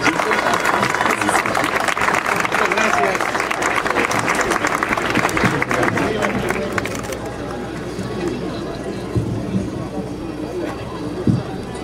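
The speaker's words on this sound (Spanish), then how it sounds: "Por favor, un aplauso para mí." Audience applause for the mayor at the Soy Festival in Xalapa, a loud, dense wash of clapping from a large crowd that holds steady and then thins out toward the end, with some voices mixed in.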